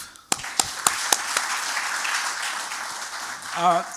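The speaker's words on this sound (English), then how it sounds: "I'm sure we can clap." Audience at a Faculty of Law book launch applauding Professor Enyina Nwauche: a few scattered claps swell into steady applause from the room, with a voice starting as it fades.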